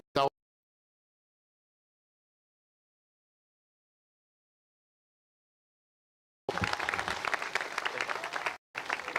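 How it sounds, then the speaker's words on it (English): Loud audience applause breaks out at an outdoor statue unveiling after a long stretch of silence, dense clapping lasting a couple of seconds, cut briefly, then resuming. "Clap it up for Mr. Miller."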